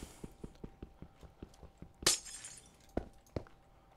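Glass blocks break in Minecraft with one loud, bright shatter near the middle, set among soft rhythmic clicks and a couple of sharper taps afterward.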